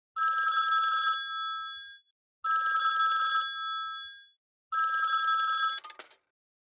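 A telephone bell rings three times in long, evenly spaced bursts, clear and alone, with a brief click after the last ring.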